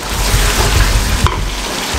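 Beef masala with chopped green chillies being stirred and cooked in a hot pan, giving a loud, steady sizzle with scraping stir sounds throughout.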